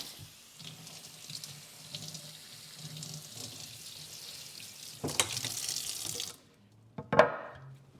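Hot water runs from a kitchen sink tap, a steady hiss and patter for several seconds that swells louder before cutting off, followed by a brief clunk and splash.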